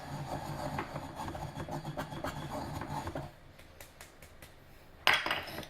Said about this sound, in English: It just turns to a powder, so we just grind it up real good.